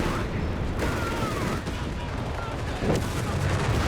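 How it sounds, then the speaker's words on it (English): Gunfire in the Company of Heroes 3 strategy game, a German DAK versus US Forces match, sounds as scattered shots and bursts from several weapons. The shots are mixed into a dense battle soundscape. "Shots fired."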